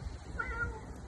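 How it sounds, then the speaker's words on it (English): A single cat gives one short, clear meow over a low background hum. "What sound does a cat make?"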